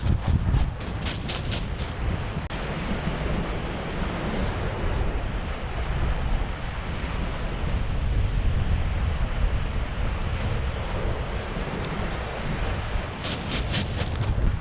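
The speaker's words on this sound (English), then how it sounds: "it's a bit windy" Steady, loud wind roars across a beach on Denmark's west coast, blending with the wash of surf and microphone buffeting, continuous throughout with no voices.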